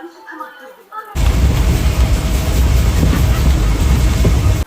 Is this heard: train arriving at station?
yes